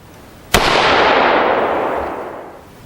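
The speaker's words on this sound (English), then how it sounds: "Proctor muzzle brake going for round 2" A single rifle shot from an AR-15 fitted with a Proctor muzzle brake, a sharp close crack followed by a long, broad rolling blast that decays over about two seconds.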